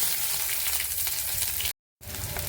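Onions sizzling in hot oil with black cumin seeds in a wok on a gas stove, a steady broadband frying hiss with a brief silent gap before the sizzle resumes.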